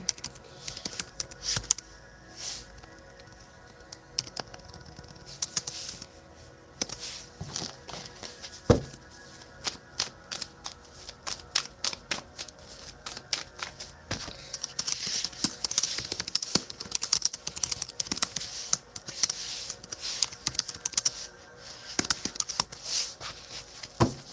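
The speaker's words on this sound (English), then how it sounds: "I'll type in the box here" Steady computer keyboard typing during a live tarot reading stream, rapid key clicks running throughout at moderate distance with a low room hum beneath.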